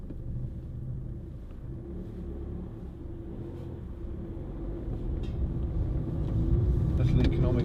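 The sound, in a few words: Ford Fiesta 1.4 TDCi diesel panel van driving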